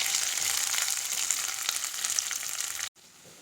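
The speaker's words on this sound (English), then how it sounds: "Our onions are getting fried" Sliced small sambar onions with curry leaves fry in oil for Kerala moru curry, a steady close hiss of sizzling that cuts off abruptly near the end, leaving quiet background.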